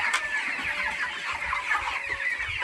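Broiler chickens about 33 to 34 days old, a flock of several hundred, cluck and murmur steadily in their shed, a dense close chorus of overlapping calls with a faint thin tone running underneath.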